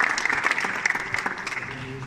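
A room claps at the prize-giving of a Subbuteo tournament, lively and uneven hand claps rising and thinning over two seconds, with a voice briefly audible underneath.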